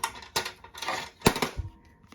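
A few close mechanical clunks and a whirring rattle as a CD drive tray pushes out and ejects a disc, brief and moderately loud.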